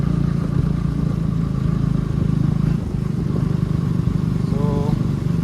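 KTM motorcycles riding off-road give a steady, loud engine drone with a low rumble throughout, while people talk over it.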